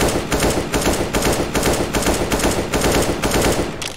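Rapid full-auto gunfire from a weapon in Counter-Strike: Global Offensive, a dense, continuous spray of evenly spaced shots lasting several seconds, loud and close with no talk.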